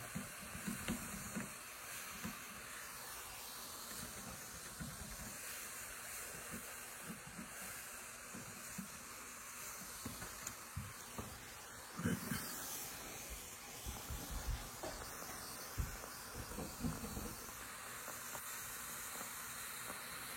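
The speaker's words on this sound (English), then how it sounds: "The steam is pretty hot, so we gotta be careful of that." Hot steam from a steam cleaner used to remove tree sap: a continuous broad hiss runs throughout at a steady moderate level, with small crackles and bumps scattered across it.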